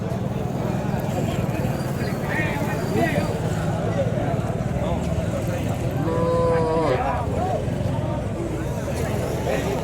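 Native cows with their calves lowing at a busy cattle fair in Madrapalli, a few clear moos rising midway over steady crowd chatter and people talking nearby.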